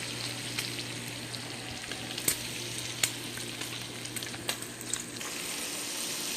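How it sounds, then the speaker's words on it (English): Bacon and onions frying in butter and olive oil in a pot with pepper, a steady moderate sizzle with a few faint scrapes and clicks of stirring, no talking. "So in this pot's of bacon, olive oil, butter, pepper, onions."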